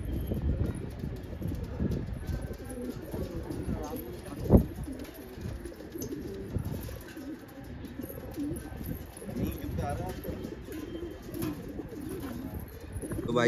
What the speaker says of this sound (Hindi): तो भाई ये कुछ उनके पुराने कबूतर हैं